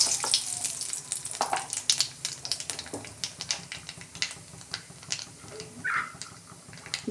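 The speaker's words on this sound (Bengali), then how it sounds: "ওই তেলে আমি কালো জিরে দিচ্ছি।" Nigella seeds hitting hot frying oil left over from frying fish, a close, crackling sizzle with quick irregular pops and spits, heard alone without talk.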